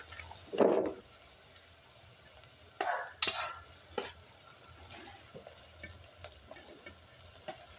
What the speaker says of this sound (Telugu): టమాటా ముక్కలు కూడా కొంచెం మెత్తగా ఫ్రై అవుతుంటాయండి